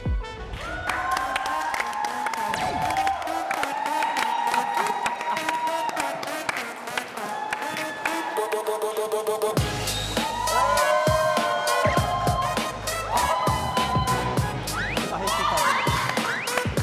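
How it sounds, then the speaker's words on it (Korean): An audience claps and cheers to welcome a K-pop group at an idol party show, the applause blending into loud, continuous music with bright tonal layers throughout. "오늘의 주인공들을 큰 박수로 맞이해 주시기 바랍니다"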